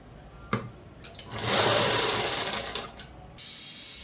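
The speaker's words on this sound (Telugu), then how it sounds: "ఇప్పుడు మడిచి అనేది కుట్టు వేసేసుకున్నామండి" A sewing machine stitches folded cloth, starting with a brief whir, then running in a loud, close, steady buzzing burst before stopping and idling faintly.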